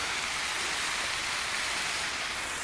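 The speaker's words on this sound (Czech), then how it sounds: "Tady je fontána." Water splashing from a fountain in a park, a steady broadband hiss of falling spray close by, continuous and even with no voices.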